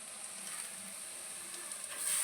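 Cabbage for a momo filling sizzles softly in a pan with fried soybean paste, a steady faint hiss that swells a little louder near the end, with no voices.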